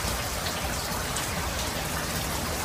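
Heavy rain pours steadily outdoors, a dense, loud, continuous hiss of drops hitting surfaces with no letup from start to end.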